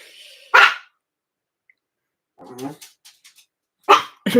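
A dog barks nearby in a few sharp, separate bursts with quiet gaps between, alongside some softer yips and muffled sounds.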